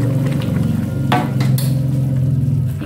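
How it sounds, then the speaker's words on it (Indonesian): Spicy beef tendon soup with coconut milk is stirred in a pot, giving a steady bubbling, simmering hum with a couple of soft scrapes of the spoon. "Kita aduk-aduk."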